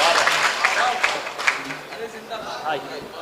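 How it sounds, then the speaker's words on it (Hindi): Audience applause at a mushaira poetry gathering, a steady wash of clapping under a voice that keeps talking over it. "एक बार पुरजोर तालियां बजा दें भाई"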